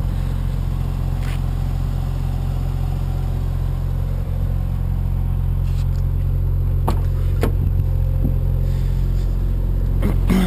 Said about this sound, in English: that's cold start and walk around of my convertible